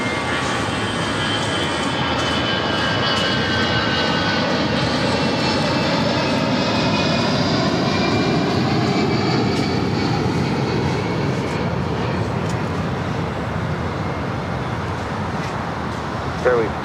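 An Airbus A380 airliner at LAX turns onto a taxiway, its engines giving a loud, steady roar with a slowly shifting whine that holds throughout.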